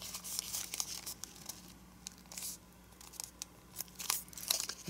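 Paper creased, flattened and turned over while folding an origami dragon, giving close, quiet crinkles and crisp rustling bursts at an uneven pace, with no talk.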